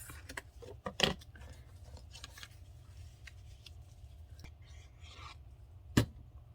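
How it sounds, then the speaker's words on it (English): Excess paper is trimmed off a handmade Christmas card. A few faint, scattered snips and scrapes sound close by in a quiet room, with one sharp cut near the start and another near the end. "Might as well use our scraps up. And then trim off the excess."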